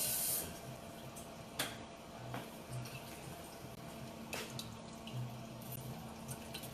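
Water runs from a tap into an empty Prego pasta sauce jar, a steady soft hissing flow with a few faint clinks, fairly close in a home kitchen.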